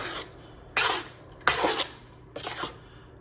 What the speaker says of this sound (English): you want to stir it for a little bit and until it starts boiling